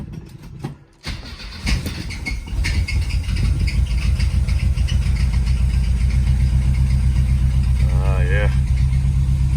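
A Mercedes car engine cranks and fires up, then settles into a steady, loud, close idle that runs to the end, with a brief voice at the start.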